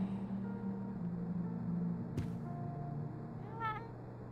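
Valkyrie, a cat in the video game Life is Strange: True Colors, gives one short, rising meow near the end, following a sharp click over a low, steady background hum.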